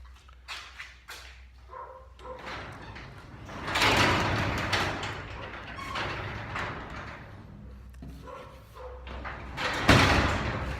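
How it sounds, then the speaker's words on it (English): A residential garage door fitted with double rollers for a low-overhead-clearance fix rolls open, giving a rumbling mechanical run with surges and rattles, fairly close and with no talk. "it pulls the door in pretty quick, so it clears the rafters."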